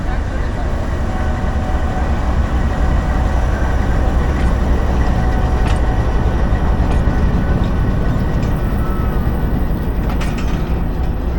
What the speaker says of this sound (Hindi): 107 अप इस्लामाबाद एक्सप्रेस लाहौर से रवाना हो रही है